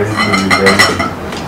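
A spoon strikes a small metal katori bowl in a home kitchen in India, giving several light clinks amid general dish clatter, with a voice speaking over it.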